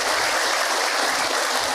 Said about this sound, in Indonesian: Tepuk tangan buat orang Bogor.